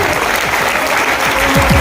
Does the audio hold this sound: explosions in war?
no